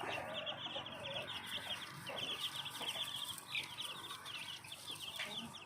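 Home-raised black chickens about a month old keep up a continuous, fairly soft chorus of clucks and high peeps, several birds calling at once.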